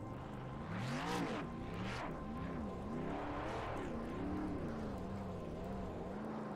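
A race car laps the track at a championship event in Texas. Its engine note wavers up and down as it revs through the turns, heard continuously at a moderate distance with no talking.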